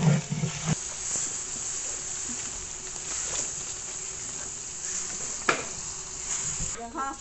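Onions hit hot oil in a pan for vegetable khichuri, giving a steady, close sizzling hiss with a few brief clinks and knocks.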